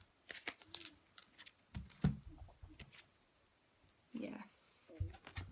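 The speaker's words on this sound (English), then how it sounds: "Just choosing a Doreen Virtue healing with the Angels Oracle card." Doreen Virtue Healing with the Angels oracle cards are shuffled and drawn in short, soft bursts of riffling and flicking with pauses between, close and quiet, while someone speaks intermittently.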